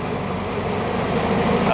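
1966 Volkswagen with manual transmission pulling out of first gear, a steady droning engine and road rumble close by that swells slightly toward the end.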